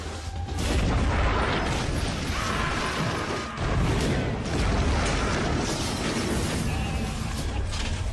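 Heavy, sustained rumbling blasts of cannon fire, each cannon loaded with stone balls, roll on continuously with no gaps, loud and dense throughout.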